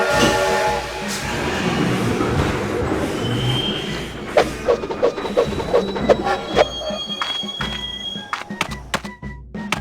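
Lionel model train running forward on its track, producing a series of sharp clicks and thunks from about the middle onward over a steady rumbling background with faint tonal whines.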